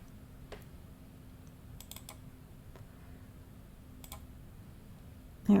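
Several sharp computer mouse clicks spaced irregularly over quiet room tone while adding a file in Maya, close and crisp, with no talking.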